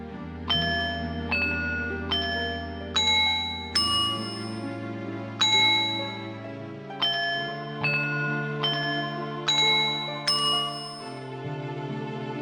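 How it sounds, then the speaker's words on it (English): A bell chime melody plays in Zelda: Majora's Mask, a run of bright, clear struck notes sounding one after another over a low sustained accompaniment, each note ringing and decaying before the next. "How the hell are you making that bell sound, Tattle?"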